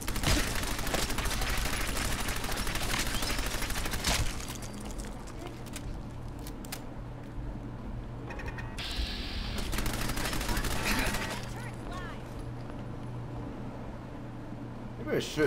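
Automated turrets in Fallout 4 fire rapid bursts of gunfire, a dense continuous rattle for the first few seconds, then lighter intermittent shots amid game noise.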